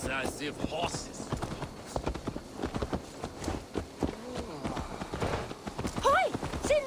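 Horse hooves clip-clop in Assassin's Creed Valhalla as the mount is led back, a steady hoof rhythm mixed with game speech and ambient insect buzz, with a brief whinny-like tone near the end.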